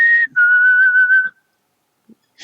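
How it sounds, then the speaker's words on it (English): A person whistles a short, clear tone: a brief note, then a longer sustained pitch held for about a second, followed by near silence and a faint trailing sound. "you're kind of good at whistling."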